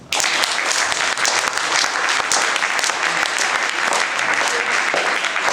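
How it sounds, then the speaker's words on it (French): An audience at a talk about happiness at work claps loudly and continuously, a dense, even wash of applause from start to finish with no break. "Applaudissez encore."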